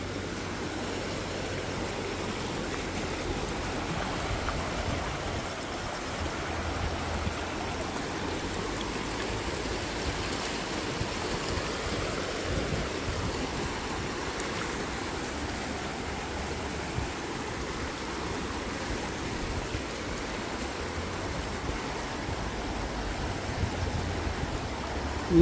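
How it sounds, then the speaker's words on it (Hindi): Swollen river after heavy monsoon rain, flowing strongly with a continuous, even rushing roar for the whole stretch, no voices. "और पानी का फ्लो ज़्यादा ही है अभी इस तरफ को।"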